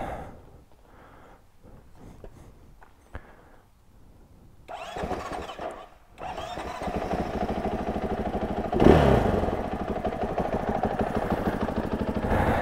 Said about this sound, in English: I am actually going to start it, run it, make sure that I didn't get any water in my exhaust